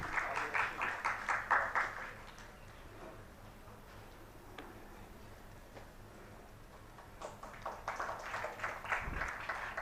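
Audience applause at an IEEE international conference evening event, clapping near the start and again near the end, faint and somewhat distant, with quiet room noise between.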